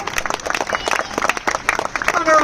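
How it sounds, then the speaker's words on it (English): Applause from a live audience at a parrot show, bursts of clapping and crowd noise filling the space, with voices mixed in underneath. "Let's give her one more big round of applause"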